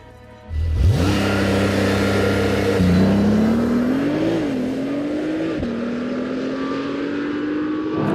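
A Porsche 911 Turbo S hybrid from 2026, running on Pirelli P Zero R tyres at the Ascari circuit, starts up loudly and holds a steady engine drone, its pitch rising and falling through gear changes and ending on a long climbing note.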